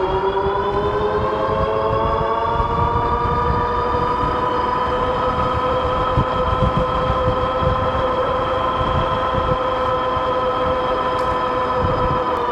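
A 2024 Ariel Rider Grizzly e-bike runs on both motors up a steep 8–9% grade at about 26 mph. A loud, steady, high motor whine holds throughout over rough wind rumble, with no talking.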